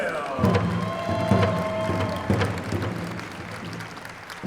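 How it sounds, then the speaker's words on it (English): Audience at a Mall of America pow wow demonstration applauds an arena director, a moderate round of clapping and crowd noise layered with talk and a sustained tonal sound. "How about a nice round of applause for Mr. Clifton Goodwill?"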